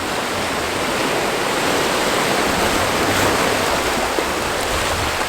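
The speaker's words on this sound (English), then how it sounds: "Big wave coming in." Sea waves break on a beach at Seaham in a loud, continuous roar of surf and hissing foam, swelling slightly midway, with no voices.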